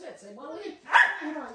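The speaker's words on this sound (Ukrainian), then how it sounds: "Чарли, ты это гавкаешь?" A pet dog gives a single short bark indoors at a home bakery, close and fairly loud, preceded by softer voiced whines or vocal sounds.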